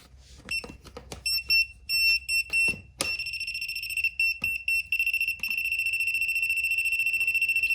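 A voltage detector held to a live household outlet gives sharp, high electronic beeps, first in short irregular bursts and then settling into a rapid, steady pulsing tone, close and alone.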